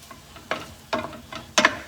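Chopped garlic, about three cloves, stirred into a frying pan with onions and peppers, giving several short scraping bursts of stirring over a soft sizzle, each stroke brief and close.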